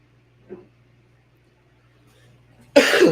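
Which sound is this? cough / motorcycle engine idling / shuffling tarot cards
cough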